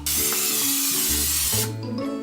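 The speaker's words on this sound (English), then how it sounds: "We have to spray the glass baking pan." A spray can hisses in a long continuous burst while coating a glass baking pan for brownies, close and loud, with faint tonal music underneath that fades as the spray stops.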